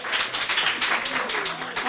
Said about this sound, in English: So give him a big round of applause.